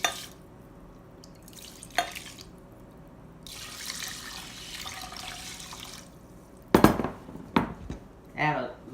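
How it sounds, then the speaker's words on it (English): Rice and water splash and pour into a pot amid clinks of metal and kitchen clatter, with a spell of running water and a voice speaking nearby. "we're gonna put the rice in the pot with the water"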